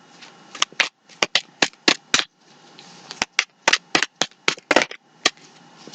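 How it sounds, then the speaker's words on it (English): Tarot cards being shuffled by hand, a series of sharp crisp riffling snaps in two bursts separated by a short pause, close and loud with no talking. "It's weird how I'm shuffling these cards."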